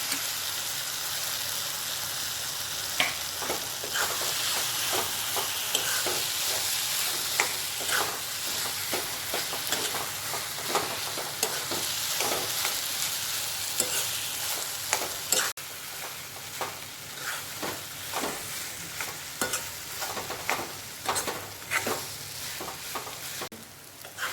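Mashed eggplant bharit being stirred and mixed in a hot pan, a steady sizzling hiss throughout with repeated scraping and tapping of a spoon against the pan, close and continuous, with no talk.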